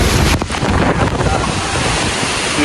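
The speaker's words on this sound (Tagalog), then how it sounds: "masyadong maingay yung hangin" Loud, continuous roaring typhoon wind buffets the microphone, a dense rushing gale with no letup from start to finish.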